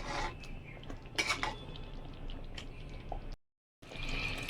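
A spoon clinks and scrapes against a pan while stirring thick doi rui, rohu fish in yogurt curry, with several sharp metallic knocks and a wet swirling texture, close and moderately quiet, broken by a brief silent gap.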